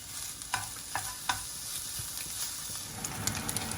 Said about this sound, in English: So now the next stage is to fry the bacon, which has been sliced up into little strips.